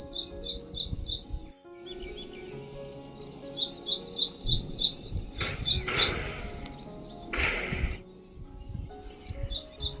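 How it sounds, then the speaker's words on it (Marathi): Small birds chirp in a terrace garden, quick bright trills repeating in bursts, near and clear, with a couple of louder rustling thumps in between. "तर असे पाखरं पण खूप आपल्या गार्डनमध्ये असतात हमेशा"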